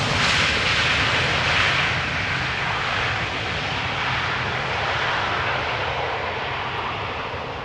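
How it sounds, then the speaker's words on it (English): A Boeing 787 Dreamliner jet arriving from New York JFK at Amsterdam Schiphol Airport in showery weather, its engines giving a broad, loud, continuous roar that swells early, then slowly eases as the aircraft passes. "Dreamliner arriving from New York JFK."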